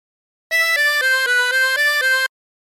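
Opening phrase of "Turkey in the Straw" on a 24-hole tremolo harmonica: a quick run of seven bright, wavering reedy notes played evenly, alone and clear, with silence before and after.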